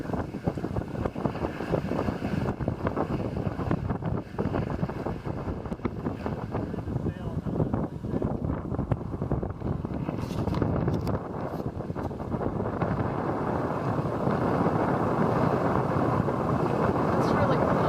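Wind buffets a sailboat sailing downriver near Portland, Oregon, making continuous rough rumbling gusts against the microphone along with the low wash of the boat moving through the water.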